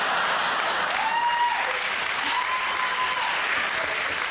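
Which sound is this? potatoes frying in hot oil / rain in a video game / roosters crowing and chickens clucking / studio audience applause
studio audience applause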